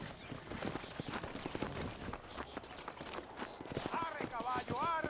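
Horse hooves clip-clop steadily in the Red Dead Redemption video game, a close, even trotting rhythm that runs under a voice speaking throughout.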